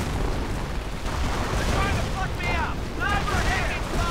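Rockets and sniper fire in a real-time strategy war game, heard as dense overlapping booms and blasts with a few rising whistles, continuous and loud throughout with no voice.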